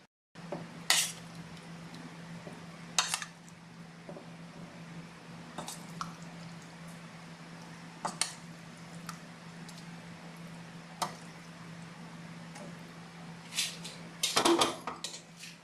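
Tofu chili being plated at home, with scattered clinks and taps of cutlery against dishes and pots, a few brighter clatters near the end, over a steady low kitchen hum.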